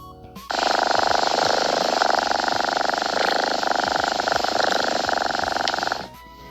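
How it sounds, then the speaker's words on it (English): A cat purrs close up, a loud, steady rumbling purr that starts abruptly, holds for about five and a half seconds, then stops. "Oh, I can't help but purr again."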